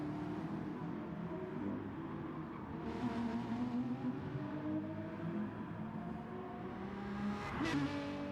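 Racing car engines from a sim racing league race drone and whine steadily, several cars layered with shifting pitch, a louder rev swell near the middle and a brief squeal or scrape near the end.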